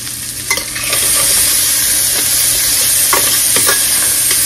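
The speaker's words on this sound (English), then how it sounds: "Maybe just sauteing them up a little bit." Onions sauteing in a pot roast pan with leftover flour on the bottom, a loud continuous sizzle with intermittent stirring scrapes, close by and without speech.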